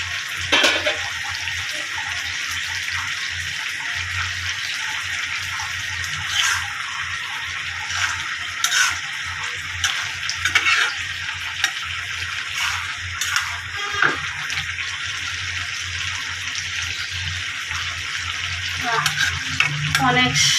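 A curry fries in a pan with a loud, continuous close-up sizzle, while a spoon stirs and scrapes at intervals throughout.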